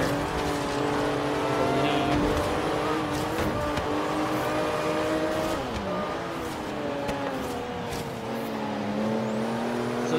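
A Porsche 911 Turbo S racing in Forza, its engine droning loudly and continuously, with pitch rising and dropping through gear changes and cornering, plus other cars passing nearby.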